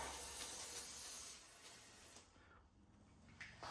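A short, faint hiss of an aerosol spray can spraying onto a BMW S62 engine's timing chain area, fading out after a couple of seconds and followed by a brief second puff.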